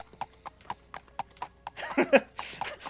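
A horse's hooves clip-clop in the video game Daggerfall Unity: a steady, close, even-paced run of hoof strikes that turns into a louder, busier clatter near the end.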